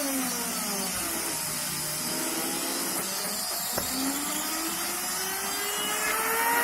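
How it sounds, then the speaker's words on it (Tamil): A small embedded-controlled CNC machine drills a hole, its spindle running at speeds of up to 8000 RPM. It gives a steady mechanical whine with shifting pitch and a brief sharp knock midway as the bit cuts. "கரெக்டாக நம்ம எங்கே பாயிண்ட் பண்ணோமோ அந்த இடத்துல கரெக்டாக ட்ரில் பண்ணிடுச்சு"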